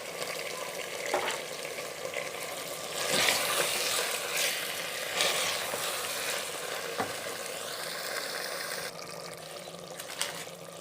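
Beef and masala frying in a pot for a restaurant-style beef biryani: a steady, close sizzle with stirring scrapes and occasional louder bursts, continuing without talk.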